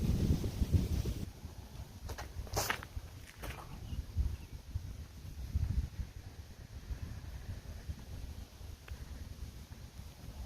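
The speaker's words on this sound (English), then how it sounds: "The wind is blowing this way." Wind buffets the microphone outdoors on a disc golf course, low rumbling gusts rising and falling throughout, with a few faint rustles and light knocks, no talking.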